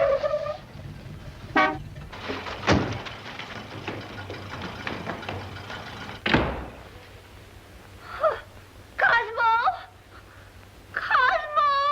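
Car horn honking outside in a 1941 setting, a few short toots and a longer blast near the end over a low hum, with a sharp knock midway.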